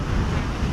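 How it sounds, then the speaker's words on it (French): Ocean surf washes onto an empty beach in Cotonou, giving a steady, loud, low rumbling wash with a windy hiss and no voices. "seul le bruit des vagues effleure les oreilles."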